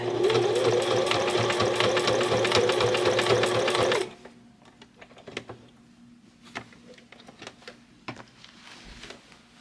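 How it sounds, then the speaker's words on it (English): Sewing machine stitching denim patches onto jeans, a steady loud whirring run that stops abruptly partway, followed by quieter clicks and fabric handling. "I am just stitching the patches down"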